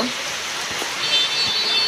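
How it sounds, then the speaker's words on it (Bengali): Steady rain falls outside near a balcony as wind picks up, giving a close, even hiss with faint scattered drips and no distinct voices. "যেভাবে বৃষ্টি হচ্ছে এখন বৃষ্টিও চলে আসছে নেমে আসছে"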